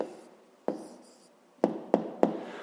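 Pen writing down an answer on paper, faint scratching with a few sharp taps as strokes begin, quiet and close.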